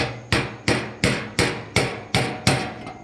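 Hammer blows on a blunted brass chisel while installing a fuel pump sender assembly on a 1988 Chevy G20 conversion van, with eight evenly spaced, sharp metallic taps, each ringing briefly, loud and close, with no talk.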